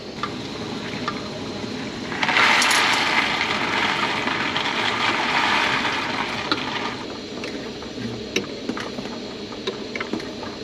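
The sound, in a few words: water boiling in pot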